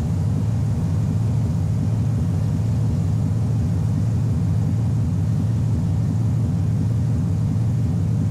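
Boeing 737-300 jet accelerating down the runway on its takeoff roll in a flight simulator game, a steady loud low engine rumble and roar that holds constant throughout with no talk.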